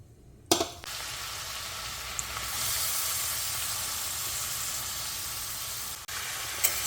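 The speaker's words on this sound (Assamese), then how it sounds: "এনেকৈ ভাজিব লাগিব মানে বহুত সময় ষ্টিম কমাই ষ্টিমটো বঢ়াই নহয় বহুত ভালকৈ ভাজি ল'ব লাগিব" Grated carrots fry with cardamom and bay leaf in a pan for gajar halwa, producing a steady, close sizzle and hiss after a sharp initial clatter, with a brief stir near the end.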